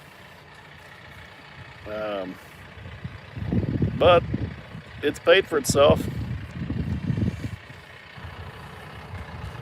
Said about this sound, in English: we're doing dozer work with a tractor